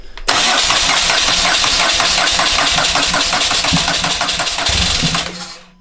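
A motorbike engine catches and runs loudly and steadily for about five seconds, with a dense, rapid firing rhythm and a brief lower thump near the end before it cuts off.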